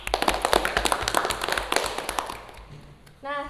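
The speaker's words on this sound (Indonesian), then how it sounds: "Tepuk tangan untuk kelompok ahli." A classroom group applauds a student expert group after a presentation, a short burst of scattered, uneven hand claps that thins out and fades, followed by a brief tonal sound at the end.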